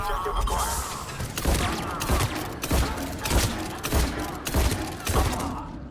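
Shotgun blasts and rapid gunfire in a Mass Effect 3 battle, loud, dense bursts of booming shots repeating roughly every half second with a constant background roar of combat.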